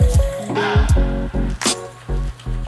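Water is worked into shaving lather with a brush, giving rhythmic wet squishing and slapping strokes up close, loud and repeated in quick pulses.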